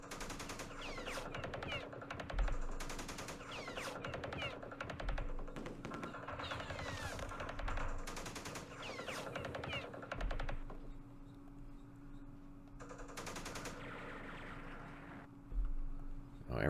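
Bursts of small-arms and machine-gun fire in a Vietnam War strategy game set in the Battle of Hue, repeated crackling volleys separated by short pauses over a steady background hum, moderately loud throughout.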